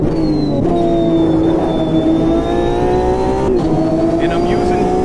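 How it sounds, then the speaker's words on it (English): A race car engine in a sim racing game (ACC or AMS 2) holds a loud, steady whining drone that dips and rises briefly as it shifts and revs, while someone talks over it. "The engine sounds make it hard for me to hear you"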